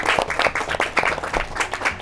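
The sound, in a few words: applause for school children's performance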